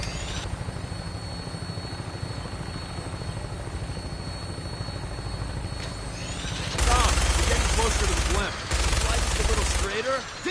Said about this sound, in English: Tinker's gonna keep the vertibird spooled for an immediate takeoff